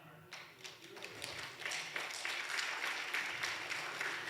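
A church congregation at a Sunday service breaks into applause, starting with a few scattered claps that quickly build into a steady, moderately loud round lasting several seconds.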